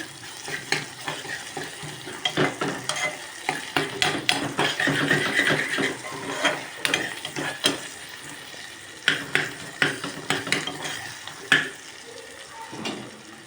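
A spoon scrapes and clatters repeatedly against a pan as mutton biryani ingredients are stirred, over a steady background sizzle.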